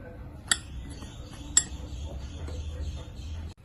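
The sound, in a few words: mixing sugar in a pan with a ladle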